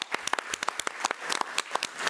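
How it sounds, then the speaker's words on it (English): Applause from the audience at a school board committee meeting, a modest group clapping with distinct individual claps audible in an uneven, close patter. "Let's give Ms. Berry and Ms. Bryan another round of applause."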